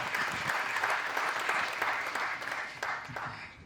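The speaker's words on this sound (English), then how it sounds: "A round of applause for the Deputy Executive Mayor." An audience applauds the Deputy Executive Mayor at a municipal safety officers' launch, a dense, steady roar of clapping from many hands that holds for several seconds, then tails off slightly at the end.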